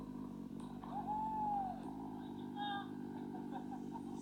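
A motorcycle engine runs steadily with a low, even harmonic drone, fairly faint, and a brief rising whistle-like tone sounds partway through.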